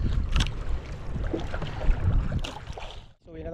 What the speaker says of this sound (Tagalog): Grabe ng lakas ng hangin oh. Pati yung alon.